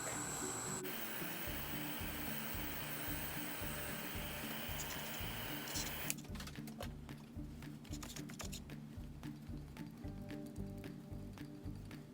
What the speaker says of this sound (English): I'm going to go ahead and take my heat tool and let's dry this